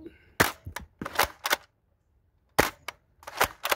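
X-Shot Last Stand toy blaster fires in several sharp, close snaps, spaced irregularly in two bursts with a silent gap between them.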